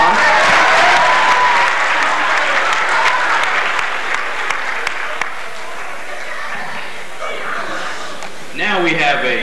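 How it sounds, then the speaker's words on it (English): Sustained applause from a crowd at a high school Black History program fills most of the stretch, dense clapping with a few scattered cheers, tapering slightly before voices and music-like tones come in at the end. "Let's give a round of applause."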